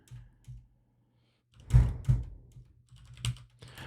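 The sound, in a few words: typing on a computer keyboard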